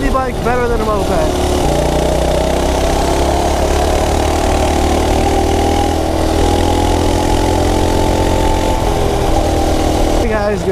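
A mini bike engine idles steadily and loud up close, with a low continuous drone and a brief revving rise near the start and end, as people talk over it outdoors.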